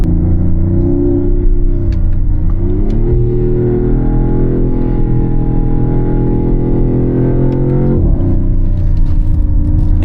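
A 2026 Dodge Charger Sixpack Scat Pack accelerating on a cold road, its engine a loud, steady low rumble that rises in pitch, drops briefly at a gear change around the third second and again near the eighth.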